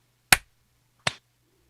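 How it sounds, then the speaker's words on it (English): Two sharp hand claps about three-quarters of a second apart, loud and close in a quiet room, struck as a sync marker for a recording. "let's do some clapping here"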